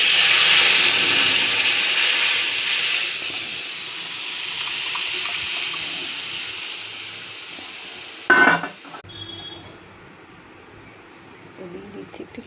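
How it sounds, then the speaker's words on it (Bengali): Masala and ginger paste frying in a pan sizzle with a loud, steady hiss that slowly eases off, broken near the end by a brief clatter of utensils, then quieter kitchen sounds. "মশলাটাকে কষিয়ে নিচ্ছি আদা দিয়ে, দিয়ে দেবো ডালটা।"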